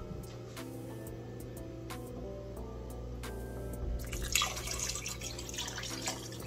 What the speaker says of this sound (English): Now we'll add our beef broth now.